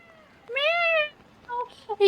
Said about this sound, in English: Meow! He just like echoes through the...